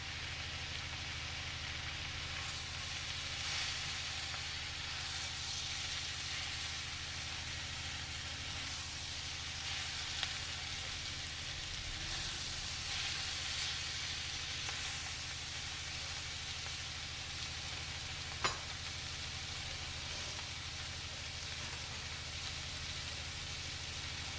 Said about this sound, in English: I'll let it fry just a minute longer